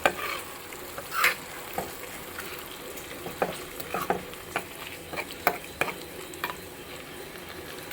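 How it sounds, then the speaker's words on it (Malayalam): Goat liver fries over a high flame while being stirred in a pan: a steady close sizzle runs throughout, broken by scattered scrapes and knocks of the spoon. "നല്ല ഫ്ലെയിമിലിരുന്ന് നന്നായിട്ടൊന്ന് ഫ്രൈ ആകട്ടെ"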